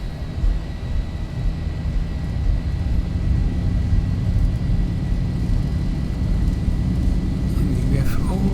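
Boeing 737-800 engines at takeoff power in the X-Plane 11 flight simulator give a loud, steady low roar and rumble that holds throughout, with a faint rising whine near the end.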